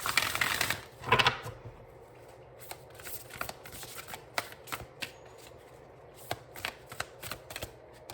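Oracle cards being shuffled in two quick riffling bursts near the start, followed by scattered light taps and soft handling noises in a quiet room.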